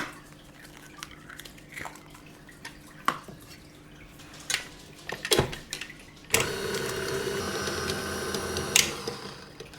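Eggs are beaten into butter and sugar by an electric mixer, first on a low setting with scattered clinks and taps, then a steadier whirring drone once the speed is raised.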